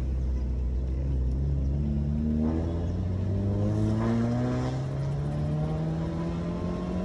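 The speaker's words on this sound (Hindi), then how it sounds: "ये हमारी गाड़ी की ड्राइव है थोड़ा सा आपको पुल करके दिखाता हूँ इसका साउंड सुनाता हूँ" A car engine pulls under acceleration, rising steadily in pitch as it revs through a gear over several seconds, loud and close with no talk.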